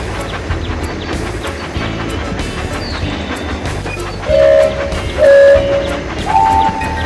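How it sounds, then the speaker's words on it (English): Toy-style train rolling along its tracks in a children's steering game, steady clickety rumble with short bright whistle toots breaking in near the end, no speech. "Swipe left or right to keep the train on the tracks."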